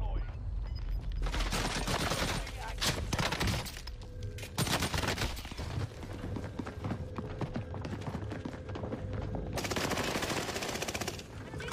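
Rapid automatic gunfire from the Warzone video game on Rebirth Island rattles almost continuously in loud, dense bursts, with brief pauses between volleys.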